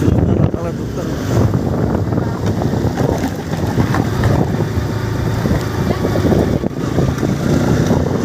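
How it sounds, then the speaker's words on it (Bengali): Strong cold wind buffets the microphone on an outdoor ride along a new road, making a loud, continuous roar with gusty swells and no speech. "হাওয়া তো শুয়ের মতো বিদে গো"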